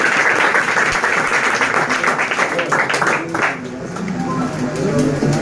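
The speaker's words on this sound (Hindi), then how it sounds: "चलिए एक बार फिर से जोरदार तालियां" A crowd of students at a physics coaching centre ceremony claps loudly and steadily throughout, a dense continuous patter with a brief dip midway, while a voice talks over it.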